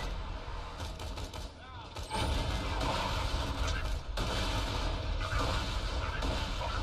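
A video game explosion erupts as a sudden loud blast about two seconds in and then rolls on as a heavy, rumbling roar amid ongoing game noise.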